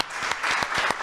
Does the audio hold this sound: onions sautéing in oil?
no